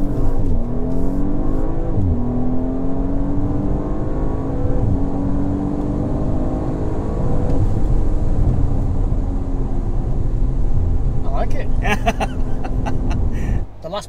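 A 450 PS Audi drives along a road, its engine humming and rising in pitch through several gear changes as it accelerates, loud and close from inside the car, with brief talk near the end.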